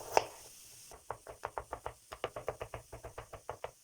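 Quick, regular knife chops of garlic on a cutting board, about two dozen evenly spaced taps after one louder knock at the start.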